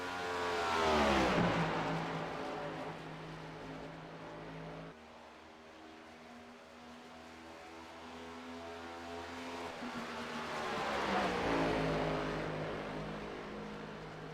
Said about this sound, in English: the 3 is going to be the first car to put down a time